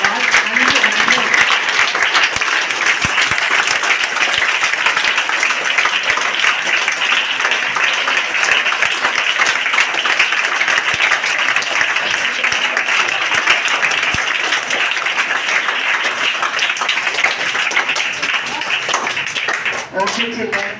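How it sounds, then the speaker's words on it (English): Sustained applause from a group of children in a school setting, celebrating a student's exam results; steady, dense clapping fills the whole stretch without pause, loud and close. "Can you clap her because she has got 99."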